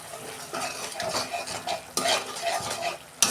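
Spice paste of chili, coriander and cumin powders with salt being stir-fried for a bhola fish curry, with a soft sizzle and a few clinks and scrapes of a utensil against the pan, close by.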